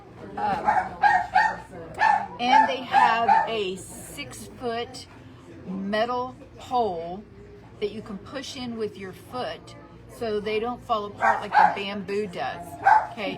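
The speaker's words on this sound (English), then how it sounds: "There really is a dog here, and he evidently doesn't like the hardware store." Inside a hardware store, a dog barks and yips in scattered bursts in the background while a person talks steadily over it.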